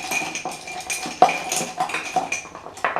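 Makeup brushes rattling in a full cup while a lip liner is searched for: close, crisp clinks and light knocks of handles against each other and the cup, one sharper clack partway through, with no speech.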